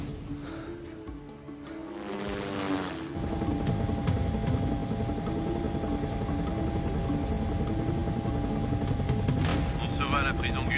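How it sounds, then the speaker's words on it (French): After a brief musical lead-in, a helicopter's rotor drone takes over, steady and fairly loud, with a low engine hum and faint higher tones on top. "Prends l'hélicoptère s'il le faut."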